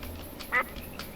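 A single short quack from a duck in Minecraft with the TerraFirmaCraft mod, brief and fairly clear over a quiet game background.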